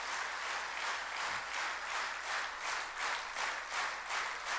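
A gathered audience claps in steady rhythmic unison, soft and a little distant, with beats landing in even pulses throughout.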